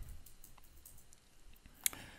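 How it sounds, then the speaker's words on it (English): Code typed on a computer keyboard, a few quiet, scattered key clicks close by with one sharper tap near the end, heard alone. "I'm going to be typing the code"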